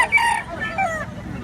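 A golden boy rooster at a busy chicken market in Batangas crows once, a loud, close, drawn-out call with a brief second phrase.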